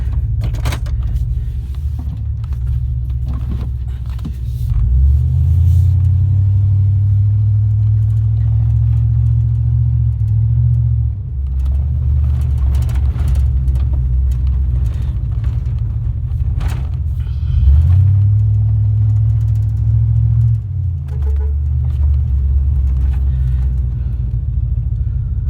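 A 2000 Chevy C3500 pickup truck rumbles along steadily with a loud, close engine drone, rising twice as it accelerates and shifts through gears, with no voices.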